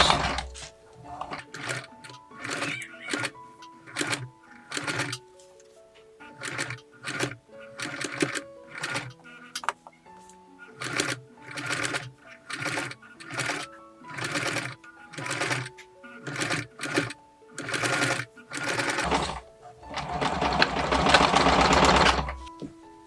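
A sewing machine stitches a small vintage-style dress for a Barbie doll, running in short rapid bursts of whirring needle clatter with brief pauses between them, close and clear, and a longer, harsher run near the end.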